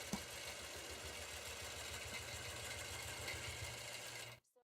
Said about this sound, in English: I'm going to turn on my vertical lock this time and stitch down.